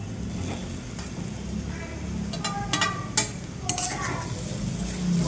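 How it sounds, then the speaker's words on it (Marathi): Cut potatoes and turmeric powder sizzle steadily in a frying pan, with a few metallic clinks of a spoon stirring against the pan over the continuous frying hiss. "हळद पावडर, कापलेली बटाटे टाकून देऊ आपण याच्यामध्ये."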